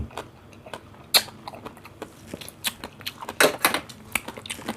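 Crispy fried pork is bitten and chewed close up, with sharp crunches and crackles in an uneven rhythm; two louder bites stand out among steady mastication, and no one talks.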